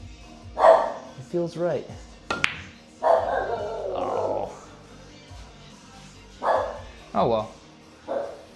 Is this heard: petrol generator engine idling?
no